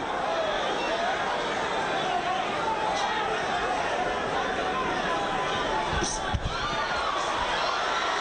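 A boxing crowd cheers for Montell Griffin in round two of his fight with Roy Jones Jr, a dense, steady arena roar of voices with no clear breaks and a brief sharper burst near the end.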